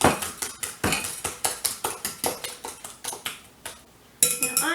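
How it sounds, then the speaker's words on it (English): Egg mixture and chocolate mix for a fudge pie being mixed with a utensil clinking rapidly against a bowl, a quick regular series of close, sharp taps that pause briefly before resuming. "Now get that egg mixture mixed up real good. And your chocolate mix."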